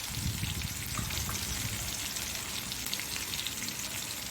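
Mangalore-style mackerel masala fry cooking in a pan, a dense, even crackling sizzle like light rain that holds steady and close, with no voices over it.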